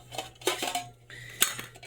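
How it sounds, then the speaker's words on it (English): Metal camping pots and pans with fold-out campfire clips clank and rattle as they are handled, several sharp close knocks and scrapes in a short burst with no talking. "This particular set of pots and pans has clips that come out so that way you can easily place them on a campfire."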